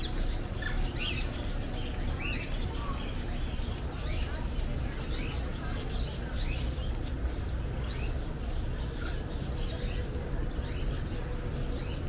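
Many birds chirp and tweet in a bird-park area at Batu Caves, Malaysia, with bright overlapping calls over a constant, busy background murmur.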